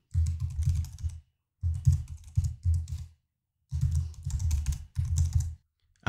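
Computer keyboard keys typed in quick bursts while entering an email address, crisp close clicks in four or five clusters separated by short silent pauses.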